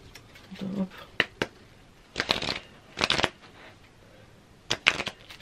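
Witch rune oracle cards are shuffled by hand in several quick, crisp bursts separated by short pauses. The sound is close but quiet, with a soft voice heard at times.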